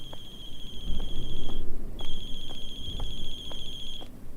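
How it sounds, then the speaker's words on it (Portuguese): A mobile phone rings in the video game The Closing Shift, a steady electronic ringtone repeating in two long bursts with a short gap, loud over a dull background hum. "Ela desce tranquilamente as escadas até ao estacionamento e segue o som do seu telemóvel."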